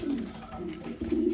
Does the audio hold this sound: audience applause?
no